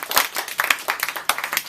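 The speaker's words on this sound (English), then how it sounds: "So final clap on that before we finish." A small group claps together at the close of a classroom feedback session, a short burst of brisk, uneven applause with dense overlapping hand claps, fairly close and steady for under two seconds.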